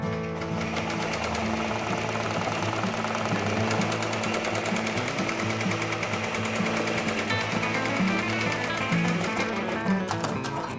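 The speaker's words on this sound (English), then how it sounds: "We can go ahead now and start embroidering. We're gonna start with our tack down stitch." Embroidery machine stitching a tack-down line on a leather appliqué patch, a fast steady mechanical rattle of needle strokes that runs continuously and fairly close.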